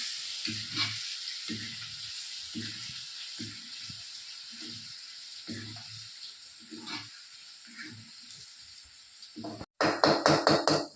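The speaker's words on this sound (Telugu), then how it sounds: "ఇప్పుడు కొంచెం బాగా తక్కువ 2 నిమిషాలు ఫ్రై చేసుకోవాలి." Ginger paste frying for a village-style chicken pickle, a continuous close sizzle broken by repeated scraping stirs, ending in a louder burst of crackling spatter.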